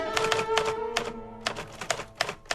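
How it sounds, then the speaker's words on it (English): Keys clack on a typewriter in uneven bursts of sharp strikes with brief pauses between them, close and distinct in a quiet room. "I'm writing your will, Dickie, on your typewriter."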